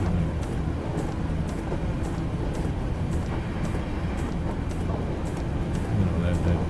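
A passenger train car in a train simulator game rolls along with a steady rhythmic clatter of wheels over rail joints at regular intervals, under a low rumbling background.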